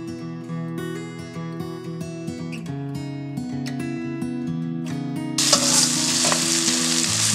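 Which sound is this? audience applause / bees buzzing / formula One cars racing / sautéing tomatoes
sautéing tomatoes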